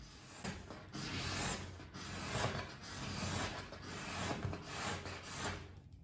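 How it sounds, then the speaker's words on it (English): A cabinet scraper rasps steadily over a lacquer finish in repeated back-and-forth strokes, soft and close, with no voices. "you can hear that scraper just start to grab"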